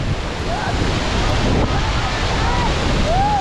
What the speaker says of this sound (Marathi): बघा दाबोचा वॉटरफॉल कसं दिसतो तो नुसता धुमाकूळ आहे